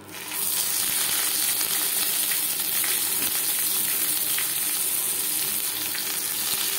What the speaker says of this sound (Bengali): পাতুরি ভাজবার জন্য কড়াইতে দিয়ে দিয়েছি 3 চামচ সরষের তেল।